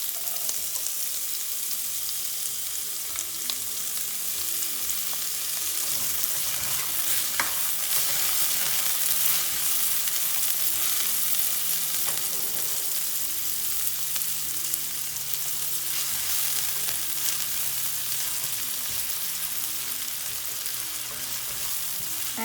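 Onions fry in a pan for a vegan spinach and tofu curry, a steady, dense sizzle running throughout with occasional faint stirring scrapes, no voices.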